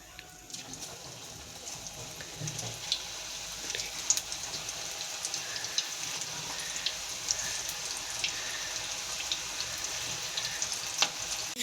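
Pakoda fritters frying in a pan of hot oil give a steady, close sizzle with scattered crackles and pops that run unbroken through the whole stretch, with no talking over it.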